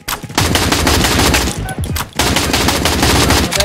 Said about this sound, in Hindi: ये है ग्रोजा ओपी साउंड गाइस